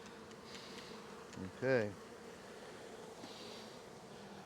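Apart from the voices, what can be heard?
honeybee swarm buzzing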